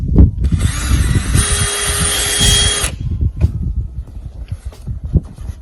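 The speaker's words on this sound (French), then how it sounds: "on perce un trou de 5 cm maximum" A power drill bores a tap hole in a maple tree, a loud whirring burst lasting a couple of seconds amid clattering knocks and thuds, then quieter tapping and handling noises follow.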